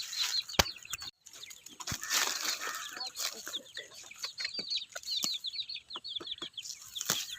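Young peafowl chicks outdoors on grass give a busy run of high, rapid peeps and chirps, fairly close, with a few sharp knocks in between.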